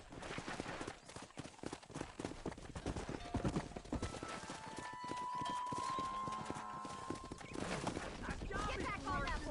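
Horse hooves clip-clop in a quick, steady rhythm in the video game Red Dead Redemption, mixed with game sounds and a faint whinny, while people talk over the top.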